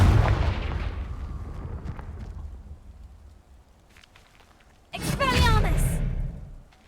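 A Confringo spell explosion in Hogwarts Legacy, a booming rumbling blast that fades away, then a second loud burst with crackling magical whooshes near the end.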